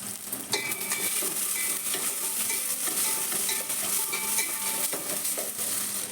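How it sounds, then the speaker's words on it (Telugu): Two chopped onions sizzle steadily in a pan with dried red chillies, a continuous close frying hiss with occasional faint stirring clinks and no talking. "ఈ ఉల్లిగడ్డ వేగే లోపల"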